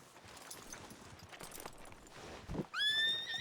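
A horse in Red Dead Redemption 2 lets out a loud, rising whinny near the end, after a few seconds of quiet game ambience with soft hoof and movement sounds.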